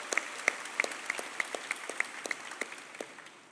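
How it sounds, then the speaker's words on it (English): During a medical school white coat ceremony, a sparse room claps. The claps are faint and distinct, and sharp louder hits land in a regular, almost rhythmic pattern over a soft bed of applause. "give him a big round of applause."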